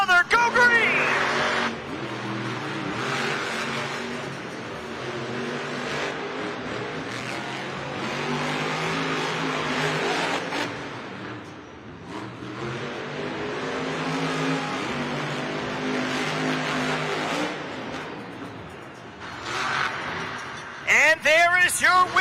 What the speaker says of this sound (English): The first time ever these 2 trucks are racing against each other.